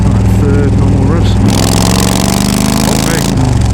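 Yamaha V Star 1300 motorcycle engine revving in third gear while being tuned with a Cobra Fi2000R fuel controller, a loud continuous low throbbing drone that rises in pitch and holds steady, close to the microphone.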